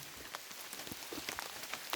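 Rain patters steadily at a beehive apiary, a soft even hiss of drops with scattered brighter taps on nearby surfaces, no voices.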